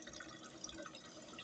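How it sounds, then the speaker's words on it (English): A thin trickle of water runs from a faucet on a failing supply, a faint, soft, continuous dribble with slight splashing flickers, and no talk. "there's barely any water coming out of this tap. It's a trickle."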